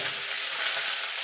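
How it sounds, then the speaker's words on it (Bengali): Chopped vegetables with five-spice tempering fry and get stirred in a pan, making a continuous close sizzling hiss with faint scraping from the stirring and no voices. "এবার সবজিটা একটুখানি নাড়াচাড়া করে নেবো মিনিটখানে।"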